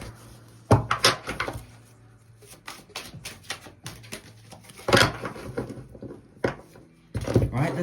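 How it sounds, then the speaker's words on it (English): A tarot deck gets shuffled by hand close to the microphone: irregular papery riffles, taps and slaps of cards in several separate bursts with quieter gaps between. "Let's give it a good shuffle."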